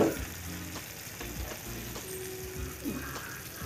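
Chicken leg pieces stir-fry over a low flame for a crispy glazed fried chicken, a soft continuous sizzle with a few scraping stirs and pan clinks, close-up and moderate with no talking.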